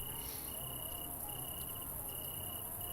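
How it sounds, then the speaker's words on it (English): Crickets chirp in a steady, continuous high trill with regular pulsed bursts. It sits over a constant background hiss in an outdoor night setting inside the Somnium Space virtual world, and no voices are heard. "I hear crickets."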